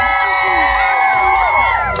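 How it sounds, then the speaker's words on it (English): Crowd cheering and shouting at a pig race at a Temecula fair, with children's voices and whoops rising in a steady, loud burst of excitement throughout. "Let's hear it from Vivian's crowd."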